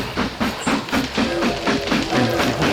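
In the Mashinky video game, a loud train rolls close by with a fast, steady chugging pulse, clickety-clack beats and hissing over a continuous low rumble.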